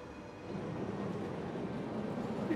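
A train rolls along a sunken railway in the city-building game Cities Skylines, a moderate, continuous low rumble that swells slightly and stays steady, with no voices.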